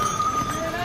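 Horse hooves clip-clop on the steep mountain trail to Yamunotri in Uttarakhand as the horse descends, a brief run of soft, close hoof steps.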